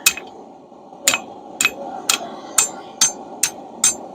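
A hammer strikes hot steel at a forge in a loud, close series of eight sharp metallic blows, the first ones spaced widely and the rest coming in a quicker, even rhythm over a low roar.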